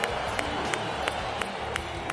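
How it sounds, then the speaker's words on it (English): Wrestling fans in WWE stands cheer and clap as a steady crowd roar, with sharp whistles or shouts cutting through at regular intervals. "We got WWE fans in the stands."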